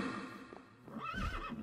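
A fairy horse or Pegasus in a fantasy video game neighs once, a rising whinny that rings out clearly over soft game background sounds, with a few hoof-like thuds underneath.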